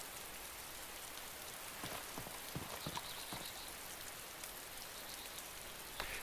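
Rain falls on the ground in the video game DayZ as a soft, steady hiss, with scattered drops pattering through it, faint and even throughout.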